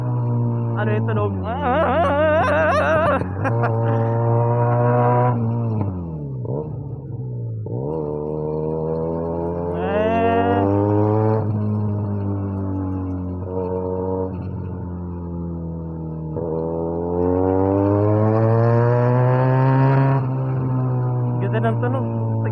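On a test ride, a Benelli 302S twin revs in repeated climbing surges, drops to a lower drone between shifts, and ends with a long rising pull, heard close and steady throughout.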